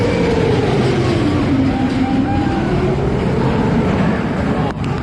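The Colossus roller coaster train at Thorpe Park roars past nearby in a loud, continuous rumble, its pitch sliding gradually as the cars rush along the track.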